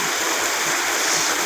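Stream water rushes in a steady, close, full hiss where two currents meet in a Y-shaped channel, with no voices over it.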